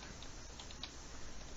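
Light clicking keystrokes on a computer keyboard, a quiet irregular patter of taps over a steady hiss, with no voices.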